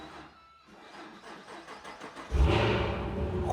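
A modern car engine turns over, then roars up in a loud rev that holds steady, heard close with no one talking.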